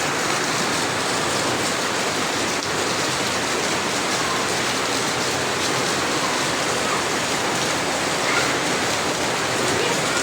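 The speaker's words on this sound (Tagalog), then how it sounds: "Grabe ang lakas ng ulan." Heavy rain in Quezon City pours steadily in a dense, unbroken hiss, loud and close throughout with no pauses.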